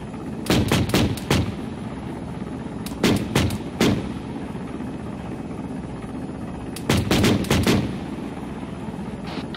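A helicopter door gunner fires in the military game Arma 3, sharp loud bursts of rapid shots in three separate volleys, each a few quick cracks, over a constant low rotor and engine drone.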